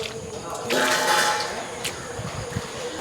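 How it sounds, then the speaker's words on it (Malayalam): Water pours from a vessel into a large copper biryani pot for a beef biryani batch feeding 1500 people, a broad rushing splash swelling midway then easing to a steady trickle, with a voice talking throughout. "വെള്ളം കൂടി ഒഴിക്കുന്നുണ്ട് കേട്ടോ."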